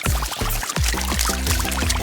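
Pieces of paper pour down in a crunchy, crinkling cascade, a dense rustle that keeps flowing for a couple of seconds.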